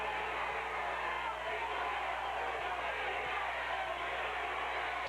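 A high school football crowd roars in the stands at a 1995 Friday night game between Elida and Celina, a dense, steady wash of distant cheering and yelling that never lets up.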